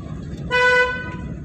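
Short car horn honk, clear and fairly close, sounding during a driving lesson over background road noise and a voice.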